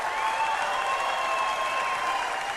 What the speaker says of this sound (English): NASCAR crowd.